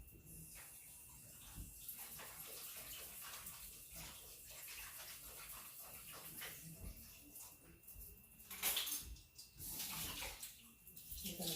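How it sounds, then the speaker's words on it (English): Tap water runs steadily into a sink while hands are washed in a home kitchen during chicken canning, a soft continuous splash that swells briefly near the end. "So we're gonna wash our hands again."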